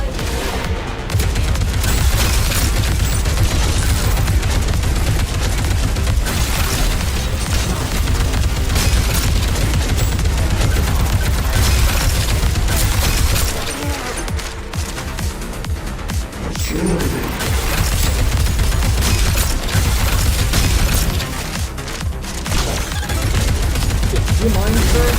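Explosive detonations and rapid gunfire in the Deadlink shooter video game come as a loud, dense, continuous barrage with heavy booms, a brief lull partway through, and a voice talking over the action.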